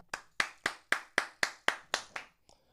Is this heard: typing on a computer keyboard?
no